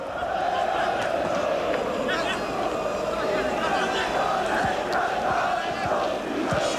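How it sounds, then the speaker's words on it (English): A big football crowd fills a stadium in Poland's industrial heartland during the 1998 World Cup qualifier between Poland and England, a steady, loud roar of massed voices and chanting holding without a break. "Big crowd here."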